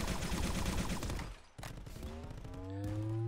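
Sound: Needler weapon firing in the VR video game Contractors

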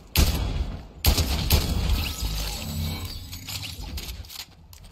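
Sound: gunshots in the video game Fortnite

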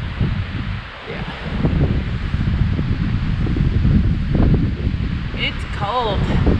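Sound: cold wind blowing at a hilltop

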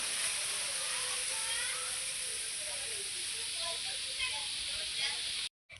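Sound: strong wind blowing on a rooftop

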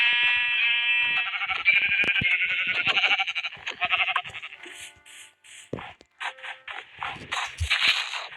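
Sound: sheep bleating, from a video game

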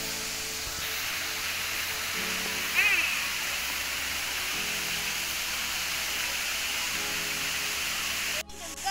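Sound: Yinhe waterfall rushing water

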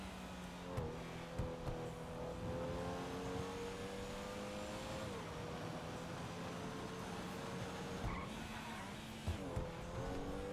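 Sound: car in a video game

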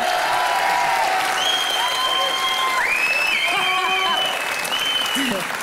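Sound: audience applause for Audrey, world judo champion

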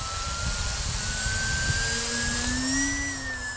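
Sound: Radiolink Turbot D460 RC airplane flying

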